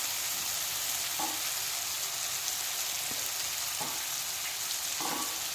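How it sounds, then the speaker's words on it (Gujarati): Spring onions are dropped into a hot pan with tomatoes over a high flame, sending up a loud, steady sizzle with a few soft stirring scrapes and no voices. "હવે એની અંદર આપણે સ્પ્રિંગ ઓનિયન નાખીશું"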